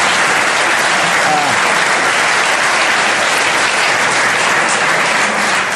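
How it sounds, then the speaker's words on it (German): Loud, sustained applause from a studio audience on a German talk show, a thick, continuous roar of clapping that stays at full strength throughout, with a voice faintly underneath. "Oh, Applaus!"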